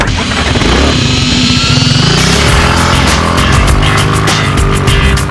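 Bug Rider quadricycle pulling away, its small engine revving loud and close with a steady buzzing drone that rises in pitch as it accelerates, continuous throughout.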